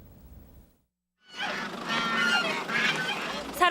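Live chickens and ducks held for culling during a bird flu outbreak in Seoul honk and squawk loudly in a dense, continuous clamor, following a brief lull with low rumbling.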